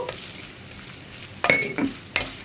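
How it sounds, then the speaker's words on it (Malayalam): Onions sautéing with a little salt in a pan, stirred with a few scraping strokes over a soft, steady sizzle, up close with no talking. "ഇനി സവോള ഒന്ന് ട്രാൻസ്പെറൻ്റ് ആയി വരുന്നത് വരെ നമ്മൾ ഇളക്കി കൊടുക്കണം."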